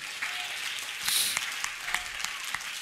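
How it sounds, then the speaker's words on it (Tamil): A church congregation claps hands in sustained applause, a dense crackle of many hands that rises briefly to a louder peak partway through and then carries on steadily. "கைத்தட்டுங்க பார்க்கலாம்."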